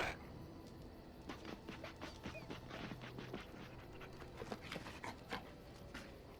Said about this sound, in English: Are you barking, Sal?